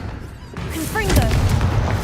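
A Confringo spell explodes in the Hogwarts Legacy video game, a deep booming blast with rumbling crackle that swells and lingers, while a character's voice sounds over it.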